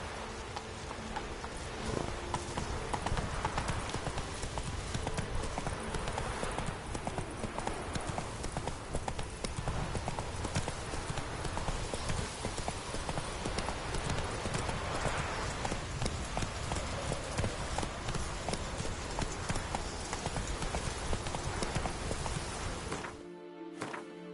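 Horse hooves clip-clopping steadily while riding in The Witcher III: Wild Hunt, a continuous rhythmic trot of moderate loudness that persists throughout and cuts off abruptly near the end.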